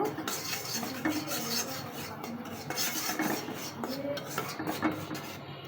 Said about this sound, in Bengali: এখানে আমরা সামান্য একটু ময়দা রোস্ট করে নেব।